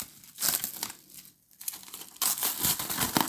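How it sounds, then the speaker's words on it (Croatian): Plastic foil cover pulled off a seedling container of sprouted beet and salad seeds, bursts of loud close crinkling and rustling separated by brief pauses. "Evo, ja ću sada da otvorim ovu posudu, foliju."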